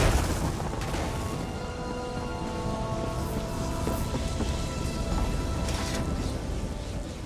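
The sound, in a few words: lightning spell thunder in The Elder Scrolls Online video game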